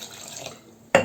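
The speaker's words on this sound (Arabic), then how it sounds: "كنزيدوا الماء،" Water runs and splashes briefly into a bowl of flour while Moroccan baghrir batter is being mixed, a short faint trickle followed by a louder clinking pour near the end.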